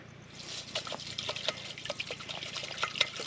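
Water is poured from a bottle for washing at a dark campsite, trickling and splashing in uneven bursts close by, fairly quiet, without speech.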